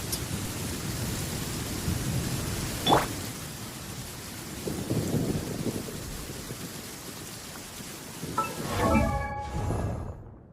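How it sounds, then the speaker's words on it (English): Steady rain falls in a Liyue area of Genshin Impact, a constant wash of hiss with a dull rumble or two mixed in, and a bright chiming game cue near the end. "It's raining!"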